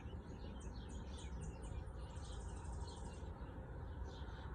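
Birds calling early in the morning, a series of faint high chirps and twittering trills from some distance over a steady outdoor hiss.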